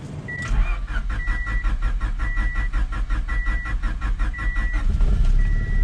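A poorly running car's engine cranks with rapid rhythmic churning while a dashboard chime beeps repeatedly, then the motor settles into a steady run.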